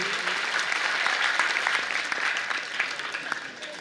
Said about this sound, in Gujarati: ફરી એક વખત વિજયભાઈને ખૂબ જોરદાર તાળીઓથી આપણે વધાવીએ.